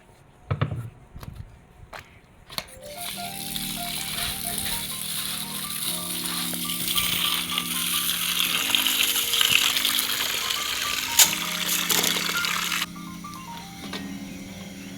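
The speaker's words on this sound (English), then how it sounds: "First I will wash my rice and parboil." Rice is washed in water before parboiling, with running and sloshing water alongside a steady mechanical hum and rattle, preceded by a few sharp knocks and clatters at the start.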